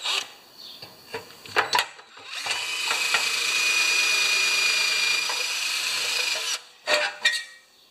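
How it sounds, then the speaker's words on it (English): A power drill whines steadily for several seconds, drilling out metal rivets while replacing a Briggs & Stratton Quantum rewind starter on a Craftsman mower, with scattered clicks and knocks of handling before and after. "Let's just drill out these four rivets."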